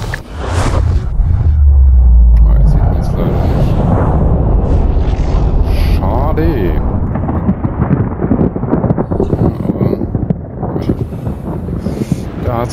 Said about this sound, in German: Da hat es gerade einen gewaltigen Knall gegeben.